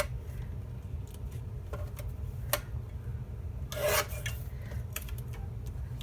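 Photo being trimmed on a paper trimmer: faint scraping, rasping cuts with a few sharp ticks and one louder slicing swipe, close against a constant low background hum.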